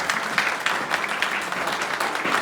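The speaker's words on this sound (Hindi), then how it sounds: "मैं चाहूंगा एक जोरदार तालियां होनी चाहिए इंडियन आर्मी के लिए।" Audience applause rings out at a seminar closing in Gairsain, Uttarakhand, a steady, dense clatter of many hands clapping at close range, sustained for the whole stretch.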